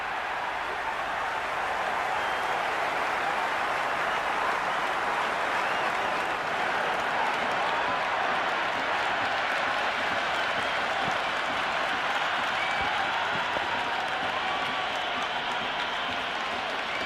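A large stadium crowd at an IPL match in the video game Cricket 26 applauds and cheers in a dense, continuous wash of clapping and crowd roar that holds steady throughout.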